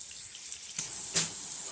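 Potato pieces seasoned with turmeric and salt fry in a pan, a steady soft hiss broken by a couple of brief louder crackles, with no talking.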